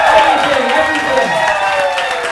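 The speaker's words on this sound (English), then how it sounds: "Let's have a round of applause" Audience at a November 2021 open mic poetry café giving a round of applause, dense steady clapping with some cheering and voices under it throughout.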